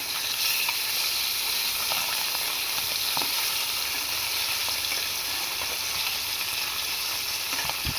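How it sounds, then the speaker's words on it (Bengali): Steady, dense sizzling of fish frying in hot oil, close and constant throughout with a few faint crackles and no voices. "তোমার তেল গরম হয়ে গেছে, দিয়ে দেবো মাছগুলো"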